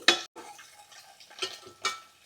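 Eggs fry in oil in a pan, with short bursts of crackling sizzle and stirring scrapes coming every half second or so against a quiet background.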